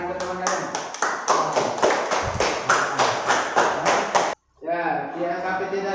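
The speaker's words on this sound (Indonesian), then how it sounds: "tepuk tangan untuk teman kalian" Pupils in a classroom clap together for a classmate, a rhythmic series of unison claps with voices over them, stopping abruptly before voices continue.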